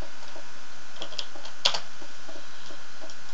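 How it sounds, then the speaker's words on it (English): Brief light typing on a computer keyboard as a name is entered, a few soft scattered key taps with one louder clack, quiet and close with no talking. "then you would type in your name."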